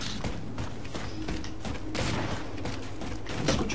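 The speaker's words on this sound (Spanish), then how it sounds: "Escucho disparos" Gunfire in the video game Halo 4 during a SWAT match, a busy run of rapid shots and mechanical clatter with no clear single bursts, steady and moderately loud throughout.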